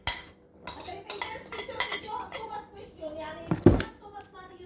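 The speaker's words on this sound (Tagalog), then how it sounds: "Just let's mix here in one bowl." Utensils clink and scrape against a bowl while egg sandwich filling is mixed, a quick series of close, bright knocks with a louder clatter near the end and some faint background voices.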